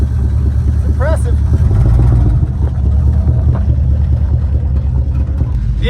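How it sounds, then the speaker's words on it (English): Big-block V8 of a 1967 Dodge Coronet 500 running with a steady, loud, rumbling drone throughout, and a voice briefly sounding over it. "The engine's kind of noisy."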